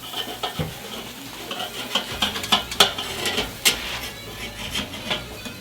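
Burger patty flipped in a hot pan, a spatula scrape and clatter followed by uneven bursts of sizzling and a few sharp taps, close and moderately loud with no talk.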